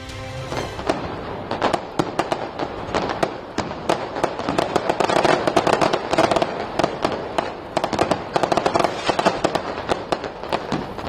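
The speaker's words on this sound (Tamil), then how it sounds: "பஞ்சாப் பொற்கோவிலில் கண்கவர் வான வேடிக்கை" Fireworks bursting over the Golden Temple in Punjab for the Baisakhi harvest festival, a dense, continuous barrage of sharp cracks and pops, loud and rapid throughout.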